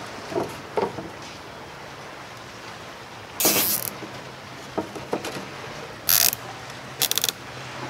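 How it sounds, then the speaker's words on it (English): Zip ties are ratcheted tight while a ghost shrimp sifter is assembled: three short, sharp zipping bursts up close, with a few faint clicks before them. "These are just regular wire zip ties."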